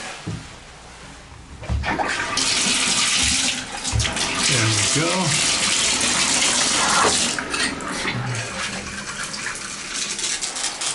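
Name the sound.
shower running, water pressure test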